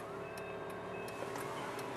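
Hazard lights on a 2001 Honda Civic VTi Oriel 1.6 with the engine running tick in a steady rhythm of faint, evenly spaced clicks inside the car over a low idle hum.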